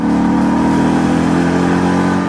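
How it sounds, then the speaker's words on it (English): A Ford Mustang GT's V8 engine revs loudly and steadily up close, a deep throaty rumble held for a couple of seconds before cutting off abruptly. "We just love this engine."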